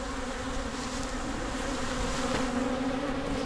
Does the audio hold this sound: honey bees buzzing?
yes